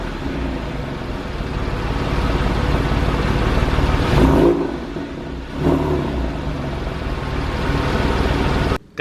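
Porsche 911 of the 997 generation fitted with a Fister Sports exhaust, revving loudly up close over a rumbling idle, with two distinct throttle blips near the middle before settling back to a steady burble.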